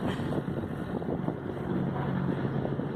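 Motor of a sailboat running steadily at close range, a continuous low droning hum with water wash and some wind buffeting on the microphone, with no voices.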